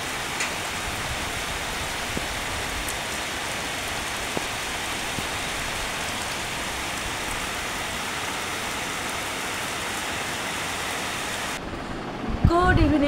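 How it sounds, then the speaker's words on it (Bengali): Heavy rain pours down steadily at dusk near a temple roof, a dense, constant hiss lasting several seconds before it cuts off abruptly into louder nearby sounds. "এইবার জোরে বৃষ্টিটা নামলো"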